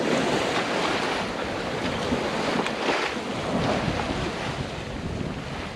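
A sailboat underway at sea on a fairly calm passage along the Florida Gulf coast between Port Saint Joe and Panama City, with a constant loud rush of wind buffeting the microphone over washing waves throughout and no talking.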